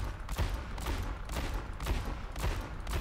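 Rapid bursts of gunfire ring out in an Overwatch Workshop aim-training mode. Close, punchy volleys repeat roughly every half second with no talking.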